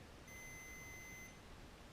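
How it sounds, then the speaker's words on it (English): A continuity tester touching the ignition points of a 1966 Ford Galaxie 500 gives a single thin, steady high beep lasting about a second, faint over quiet background hiss. "It makes a little beeping noise"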